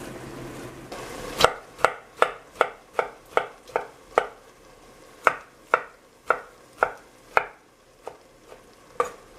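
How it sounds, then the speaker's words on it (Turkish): A knife chops peeled tomatoes finely on a cutting board, about fifteen crisp, evenly spaced strikes close up, slowing and softening toward the end. "domateslerimi de soydum. İncecik doğruyorum."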